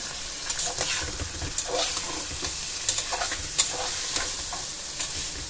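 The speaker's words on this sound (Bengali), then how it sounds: "আমি ভালো করে নাড়াচাড়া করে ভেজে নিচ্ছি ঘি আর তেলের সাথে।" Rice is stirred and fried in ghee and oil in a pan for pulao, giving a steady close sizzle broken by repeated scraping stir strokes, with no talking.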